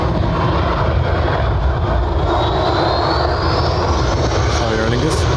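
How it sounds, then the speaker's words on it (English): Twenty-year-old Airbus A320 departing Dublin Airport for Marrakesh, a loud sustained jet engine roar that holds steady throughout, with a voice talking over it. "A 20-year-old 320 heading off to Marrakesh."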